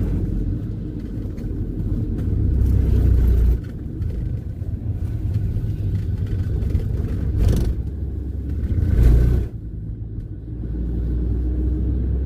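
Truck passing on a road in Alaska near the Matanuska Glacier, heard as a low rumble over steady vehicle noise, swelling briefly around the middle and again near the end as it goes by.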